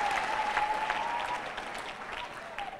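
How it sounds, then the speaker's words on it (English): An audience at a church sermon in Uganda breaks into warm hand clapping, a full, even wash of applause that slowly tapers off as a faint voice carries over it. "Can we give them a very big hand clap?"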